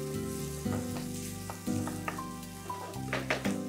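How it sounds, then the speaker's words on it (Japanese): Beef searing in a hot pan for beef stroganoff, giving a steady, close sizzle that runs throughout with a few brief scrapes and clicks on top and no speech. "しばらくこうちょっと置いて均等にですね、焼き色をつけるような感じで"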